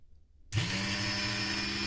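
A homemade angle-cutting machine switches on after a moment of near silence. Its motor jumps abruptly to a steady, loud whine with a strong tonal hum and keeps running evenly, close to the listener.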